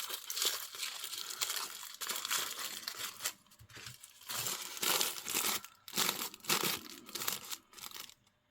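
Crinkly tissue paper is unwrapped from a Hello Kitty miniature toy set in close, loud bursts of crackling and rustling separated by short pauses.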